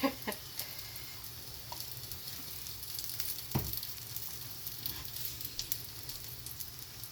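An aloo paratha fries in oil on a pan, giving a faint, steady crackling sizzle with scattered small pops throughout.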